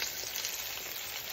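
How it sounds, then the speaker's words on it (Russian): Fish fries on paper in a pan, a quiet, steady crackling sizzle with no voices over it. "И буду жарить, и теперь уже давить буду на нее, да, во время жарки прям."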